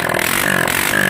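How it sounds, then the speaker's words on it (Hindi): A Hero HF Deluxe motorcycle engine running just after an engine refit with the timing and tappets adjusted: a loud, close, rapid mechanical chatter with a rough, steady pulse. "ये देख सकते हैं दोस्तों, हमारा बाइक स्टार्ट हो गया है।"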